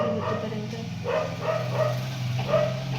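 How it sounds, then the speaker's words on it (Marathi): A household dog barking in short repeated bursts, about five yips and barks spaced through a few seconds, fairly close over a steady background hum. "आणि हे कुत्र्यांना सारखं ओरडत असतं"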